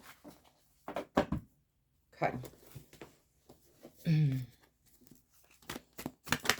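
A tarot deck is given a quick shuffle, with brief crisp riffling bursts of cards set among a woman's close, quiet talk.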